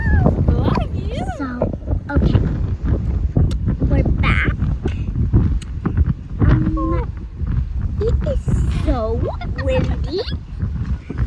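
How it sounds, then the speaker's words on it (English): Wind buffets the microphone outdoors on a fishing trip by a boat, a loud gusty rumble running throughout beneath people talking and calling out. "Windy."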